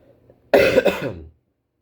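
A single loud, close cough, a short harsh burst with a second push, followed by silence.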